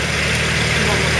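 A swapped six-cylinder car engine idles steadily, loud and close, as a continuous broadband rumble with no change in pitch. The switch-off is not heard.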